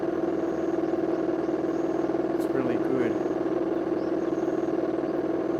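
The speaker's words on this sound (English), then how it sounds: "I can give it some nice acceleration, get on the throttle, and get that exhaust sound happening" A steady Honda NC750X motorcycle engine drones under a brief spoken remark while accelerating on the road in central Japan, holding a constant throaty roar throughout rather than rising sharply.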